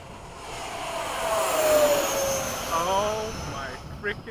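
An RC F-5 model jet flies in formation at Bayside, giving a rising and falling turbine whine that swells overhead and then fades, with people talking nearby.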